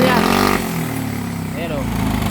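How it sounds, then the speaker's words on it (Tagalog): A Honda Mio i 125 scooter engine that is hard to start and smoking heavily revs loudly at full throttle, a steady close roar with a tonal whine, while someone talks over it. "So malakas na ang ingay niya. Tapos naka-full throttle yan."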